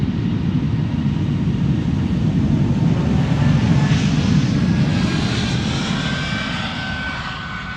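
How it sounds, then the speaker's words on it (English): Air Baltic Airbus A220-300 airliner taxiing at Amsterdam Schiphol Airport, a loud, steady broadband jet roar holding close by throughout, with a thin whine above it and no talk. "Air Baltic is pulling up. A220-300, flight 858 on its way to Tallinn."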